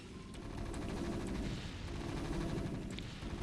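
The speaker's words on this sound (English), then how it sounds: "Those tanks are destroying that cannon line right now." Terran siege tanks firing on a line of Protoss cannons in StarCraft, a dense, continuous barrage of booming shots and explosions with no voices over it.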